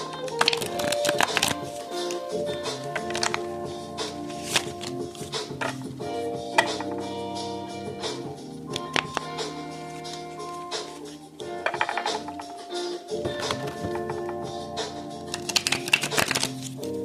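A brand new tarot deck is shuffled repeatedly by hand, giving rapid crisp riffles and card slaps in several bursts, with quiet handling taps between.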